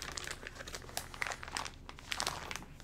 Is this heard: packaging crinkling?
yes